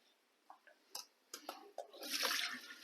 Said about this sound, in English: I'm going to go rinse them off and put some fresh water in this blender with them